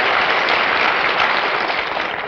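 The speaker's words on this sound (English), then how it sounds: "I don't know why you applaud." A 1950s American television studio audience applauds, a dense, steady wash of clapping from many hands that holds at full strength and begins to taper at the end.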